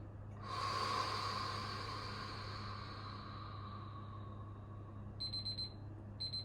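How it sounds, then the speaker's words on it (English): A timer alarm beeps during a yin yoga session for hips and lower back, sounding as a short repeated tonal pattern near the end after a sustained ringing tone over a low steady hum. "That's our alarm for 10"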